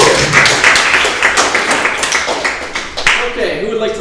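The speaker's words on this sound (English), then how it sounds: "Let's give Steve a round of applause" A lecture audience claps in dense, steady applause with voices mixed in, and the clapping thins out toward the end.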